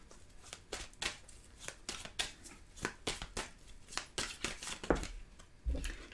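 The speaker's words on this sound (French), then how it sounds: "on va prendre une carte du tarot" Tarot cards shuffled and drawn during a card reading, giving a series of short crisp riffles and snaps in an irregular rhythm, close and fairly quiet, with no talking.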